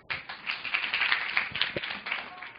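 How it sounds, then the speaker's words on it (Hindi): Students in a ninth-grade maths classroom clap together for a classmate, a brief burst of scattered hand claps at close range that thins out toward the end. "ताली बजाइए"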